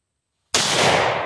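A single Spartan SPR 100 12 gauge shotgun shot goes off close and loud after half a second of silence, a sharp blast followed by a short rumbling decay.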